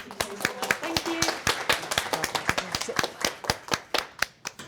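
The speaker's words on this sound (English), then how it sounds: "Big round of applause to BT." A small audience at a design talk gives a round of applause: sparse, distinct claps close by with a few voices murmuring underneath.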